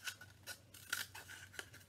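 Close scissors cut down into a cardboard tube, with five or six crisp, rhythmic snips in quick succession and no talking.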